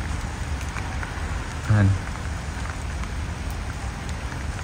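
Rain falls steadily on plants with small buds, a dense soft hiss close by, and a short spoken word briefly rises above it.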